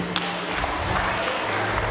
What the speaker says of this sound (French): Je vous demande d'applaudir très fort pour vous-même, public.